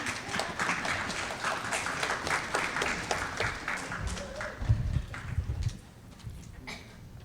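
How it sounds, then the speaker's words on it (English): An audience at a regional spelling bee claps in sustained applause for about five seconds, then the clapping fades into a quieter room with a voice. "Thank you for clapping."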